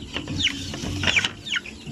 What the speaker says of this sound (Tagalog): Ang dami ng ating mga sisiw